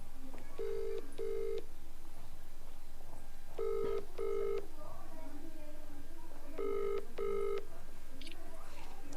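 A phone line rings with three evenly spaced double-pulse ring tones over a faint background hum.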